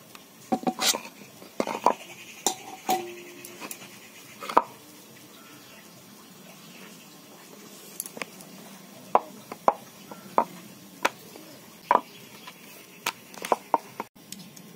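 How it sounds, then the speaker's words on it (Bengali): A knife chops dough into portions on a board during samosa making, giving a series of sharp, close knocks in irregular bursts with quiet gaps between them. "লেচি কেটে নিচ্ছি।"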